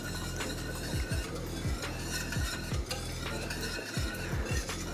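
Sweet chili pineapple sauce thickened with cornstarch is stirred in a pan over rising heat, a spoon scraping in steady repeated strokes against a low bubbling sizzle, close and alone.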